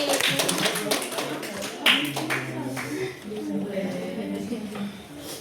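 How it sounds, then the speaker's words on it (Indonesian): A classroom of students claps in a short, scattered burst while voices chatter over it, with sharp individual claps standing out. "Tepuk tangan lagi untuk Heldi."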